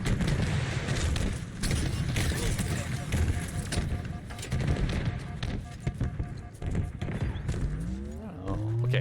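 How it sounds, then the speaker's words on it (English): Frequent gunfire crackles in a busy Halo-style Big Team Super Fiesta battle, rapid shots and bursts layered over game noise with a player talking throughout. "we're hearing a lot of fire off this way"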